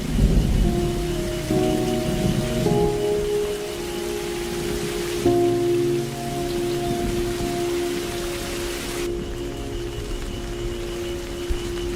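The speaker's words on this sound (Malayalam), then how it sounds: "നല്ല മഴയാ, കുറഞ്ഞിട്ട് പോ, അകത്തോട്ടിരിക്കാം." Heavy rain with rolling thunder pours down steadily for the whole stretch, a loud, dense wash, with a sustained low tonal hum running underneath.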